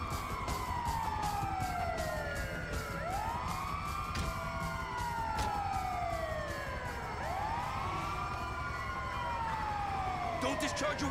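An ambulance siren in Grand Theft Auto V wails in long rising and falling sweeps, loud and close, with a rapid clicking pulse running underneath and a burst of noise near the end.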